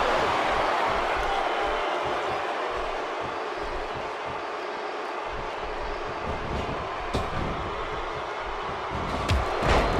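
Arena crowd noise from the WWE 2K16 wrestling video game during a Royal Rumble match, a steady loud roar and murmur of a sold-out audience filling the whole span, with occasional sharper impacts near the end.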